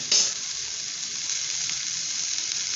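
Spinach tipped into a pan of frying onions gives a short loud burst, then a steady bright sizzle that continues evenly, close up with no voices.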